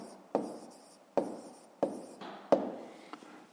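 A pen scratches short strokes on paper in a school notebook, four distinct scribbling bursts in quick succession, close and fairly quiet, with no talking.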